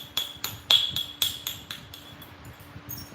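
Stone struck repeatedly in flint knapping to drive big flakes off a beveled edge: about nine sharp, ringing clicks in an uneven rhythm, loud and close at first and then softer, over a faint background hum.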